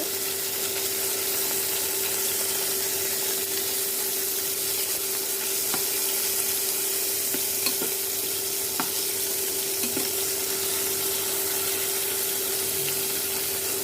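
Hilsa fish tails fry in a pan for a steady, even sizzle with a faint hum underneath and a few small pops and clicks, heard close and alone with no voices.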